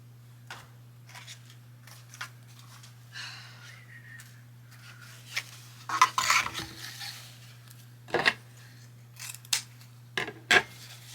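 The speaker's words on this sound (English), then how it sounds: "I'm going to trim it at about a little bit longer than what the loop length is" Scissors snip through the tail of a ribbon on an iridescent floral swag, several crisp separate cuts and some rustling of ribbon over a steady low hum, close and moderately quiet.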